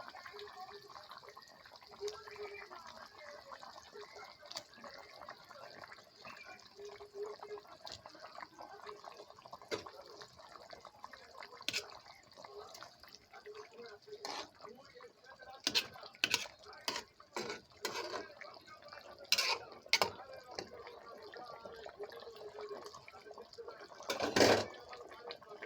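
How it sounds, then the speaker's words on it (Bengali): A curry of beans and fish simmers in a pot, giving a steady low bubbling with soft ticking pops that grow more frequent and louder toward the end. "তরকারি বলক এসে গেছে, সিম গলে গেছে"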